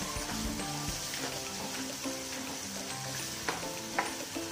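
Chicken fries in a pan with chili powder being stirred in, giving a steady bubbling sizzle with occasional soft scrapes and taps of the spoon, no one speaking.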